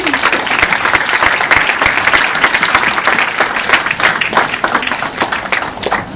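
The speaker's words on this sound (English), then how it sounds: "Let's give a round of applause for that." Audience applause after a presentation: dense, continuous clapping from a sizable crowd, loud and close, sustained evenly for several seconds without talk.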